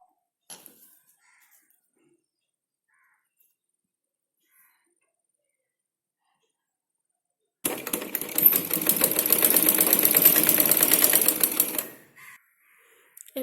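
A sewing machine stitches a hip belt made from blouse pieces, running in one continuous whirring burst of about four seconds after a long quiet stretch.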